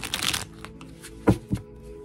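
A deck of tarot cards being shuffled up close: a quick riffling burst at the start, then two soft thumps as the cards are squared and tapped, no voices.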